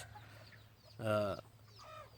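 A speckled gamefowl hen on a farm lets out one short, clear cluck near the mic, with fainter clucks before and after over a low steady background hum.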